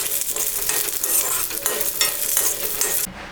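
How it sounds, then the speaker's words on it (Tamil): Peanuts and other chutney ingredients sizzle in a hot pan while a spoon stirs and scrapes, steady and close, with no voices. "இது போட்டு லைட்டாக வதக்கிடுங்க."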